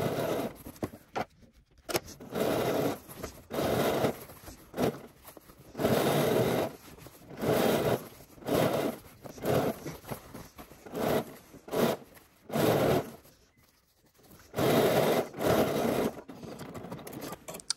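Sewing machine understitching a waistband facing on pants, running in short bursts of rapid stitching separated by brief pauses, close and fairly loud with no talking.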